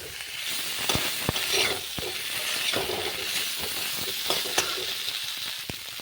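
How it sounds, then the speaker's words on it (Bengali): Potatoes sautéing with spices in a pan for aloor dom, a steady close sizzle broken by sharp clinks and scrapes of a spatula against the pan, with no talking. "এবার আলুগুলোকে ভালো করে কষিয়ে নিলাম।"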